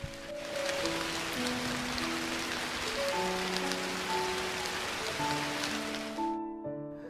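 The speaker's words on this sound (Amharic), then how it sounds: "አህያ የማይችለው የሚሉት ዝናብ መጠጊያ በሌለው ሜዳ ላይ እንደ ልቡ ቦረቀብን።" Rain pours down on an open field with no shelter, a steady dense hiss of drops that holds at even loudness throughout. Tonal music plays alongside, and the rain cuts off abruptly near the end.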